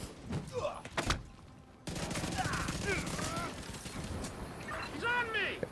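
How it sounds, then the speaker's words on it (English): Gunfire in a video game shooting outcasts, with sharp bursts of shots early on, then continuous rattling fire and mechanical clatter mixed with loud game effects. "we're starting the new year right by shooting some outcasts"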